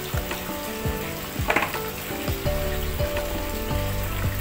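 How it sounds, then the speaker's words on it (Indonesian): Water boiling in a steamer pot, ready for steaming brownies: a steady bubbling, sizzling wash with scattered pops and small splashes, continuous and close, no voices. "ini airnya sudah mendidih"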